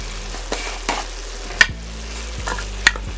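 Garlic is stirred into potatoes cooking in a pot for loaded potato soup, with a few sharp clinks and scrapes of a utensil against the metal over a low simmer. The sound is close, with no speech.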